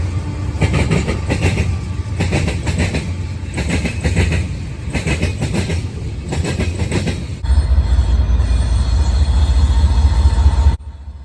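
A Norfolk Southern freight train rolls past close by, with a steady rumble and rhythmic clickety-clack of wheels over rail joints, then a louder, denser roar of passing cars before it cuts off abruptly.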